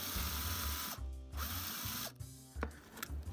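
A slightly dull, shallow drill bit grinds out the rivet on a Hot Wheels or Matchbox diecast car in steady bursts, the drill whirring loud and close with short pauses and a ratcheting stop between runs.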